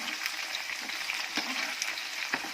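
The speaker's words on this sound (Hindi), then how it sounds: "अब सेम फली को भी फ्राई कर लेंगे, थोड़ी थोड़ी डाल के।" Green fava beans (sem) sizzle in hot oil in a pan, a steady crackling hiss dotted with small pops and light stirring sounds.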